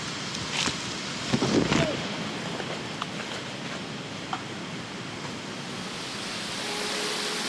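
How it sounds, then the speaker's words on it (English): A jungle waterfall on Buton Island rushes as a steady, broadband roar, with a few brief knocks and faint voices near the start. "we have almost made it to the last waterfall. We can see it and hear it right there"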